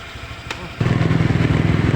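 A motorcycle engine during a team-building outing, a close, loud putter that kicks in partway through after a moment of people talking, then idles in a rapid steady throb.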